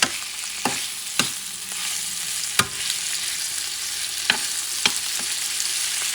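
Pork ribs frying in a pan, an even hiss of sizzling fat punctuated by several sharp spatters and utensil taps spaced unevenly across the stretch, no voices.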